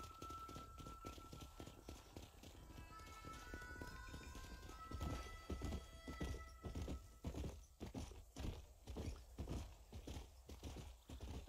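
Horse hooves clip-clopping at a gallop in the video game Red Dead Redemption, with a neigh early on, then a steady rhythmic run of close hoofbeats growing louder toward the end.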